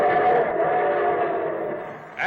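A sustained, droning train whistle sound effect sounds steadily and fairly loud for a couple of seconds before trailing off, opening a radio show.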